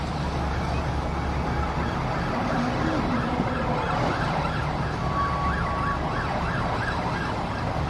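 A fire truck siren wails steadily in a repeating up-and-down pattern over loud, constant rumbling background noise at a fire at a yacht and vehicle works at a marina boat club, continuing throughout.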